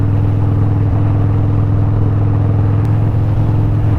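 Motorcycle engine being broken in with a T-Man 107 top end, headwork, dome pistons and 10.5 compression, a loud steady close rumbling idle with strong low harmonics and slight RPM wavering, no talk.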